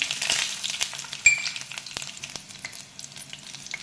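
Seasoning seeds, garlic, onion and green chili frying in oil for a fenugreek leaf and sorrel leaf curry: a continuous close sizzle with crackles and a few stirring scrapes, no voices.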